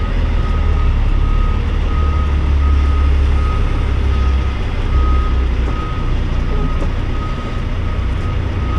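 A Kenworth truck backs up with a trailer attached, its reversing alarm sounding regular beeps over a loud, close diesel engine rumble that dips slightly near the end.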